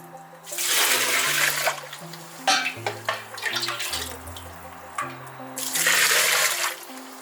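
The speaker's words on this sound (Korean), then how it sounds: "항아리에 메주를 넣고 소금물을 붓습니다." Salt water poured into a crock jar of fermented soybean blocks, loud gushing, splashing bursts of liquid with short pauses between pours, heard up close.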